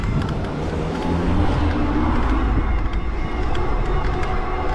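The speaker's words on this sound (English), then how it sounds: "There's the first car behind me." A car travels on a road close behind a speed pedelec, its steady engine and tyre rumble loud and continuous over wind noise, with no talking.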